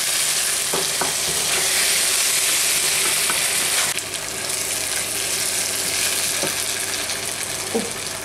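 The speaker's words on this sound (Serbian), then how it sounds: "nego pirinač se prži i onda zajedno zapeče u revnu" Rice fries with sautéed vegetables in a pan for chicken pilaf, a loud continuous sizzle broken by a few scraping stirs of a utensil and a brief shift in tone midway.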